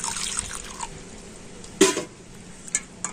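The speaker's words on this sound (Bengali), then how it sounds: "তো আমি জল দিয়ে দিচ্ছি।" Water is poured over hot cooked mangoes in a bowl, heard as faint intermittent trickles and small splashes, with one brief louder splash partway through.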